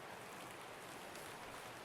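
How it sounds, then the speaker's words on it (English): Steady rain in the video game Escape from Tarkov, a dense, even hiss of falling drops at low level that holds without a break for the whole stretch. "now that we're like 15 minutes into the rain"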